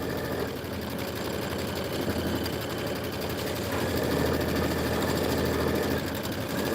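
A continuous, even mechanical hum and rapid needle chatter come from an embroidery machine stitching a Kimberbell snowflake filler block, running steadily at close range with no voices.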